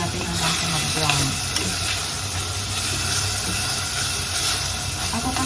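Chicken pieces sautéing in a pan for Filipino creamy chicken sopas, giving a steady, loud broadband sizzle and hiss with occasional stirring scrapes throughout, close up and without speech.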